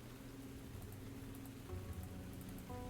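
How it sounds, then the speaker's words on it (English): Steady rain falls in the video game Tavern Talk, a continuous soft patter layered with a low background music drone and tonal notes, with no talking. "It's raining."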